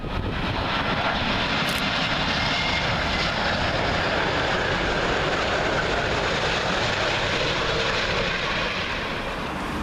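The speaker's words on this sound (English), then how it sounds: "Up next, Virgin A350, and this one is going to be arriving in from San Francisco." A Virgin Atlantic Airbus A350 arriving at Heathrow on runway 27L roars past, a loud, steady jet-engine rumble that holds for the full ten seconds with no voices.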